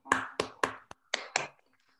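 A few separate hand claps come through video call microphones during an online literary event, six or so sharp, isolated slaps spaced unevenly, fairly faint, with brief silence between them.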